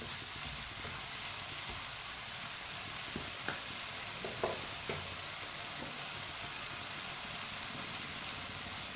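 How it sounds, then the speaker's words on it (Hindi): Tomatoes cook in a pan, stirred with a spoon, giving a steady low sizzle throughout with a few faint scrapes and taps of the spoon against the pan, quiet and continuous with no voices. "इसी तरह चम्मच चलाते हुए पकाया टमाटर को मैंने"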